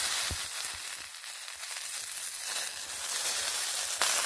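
Fresh spinach tipped into a hot pan with lentils, turmeric and aubergine, throwing up a loud, continuous broadband sizzle with a few soft thuds and crackles near the start.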